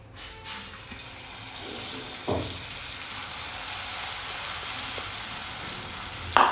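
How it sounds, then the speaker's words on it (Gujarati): Coated paneer pieces fry in hot oil, giving a steady, soft sizzle with a couple of brief knocks and clatters from the pan, close by and with no talking. "બધા જ પનીરને આ રીતે ફ્રાય કરી લઈશું."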